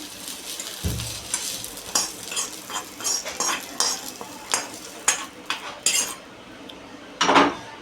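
A spoon scrapes and clinks against a pan, lifting out fried onion, coconut and ginger. Irregular metallic knocks and scraping sound close over a light sizzle, with a louder clatter near the end.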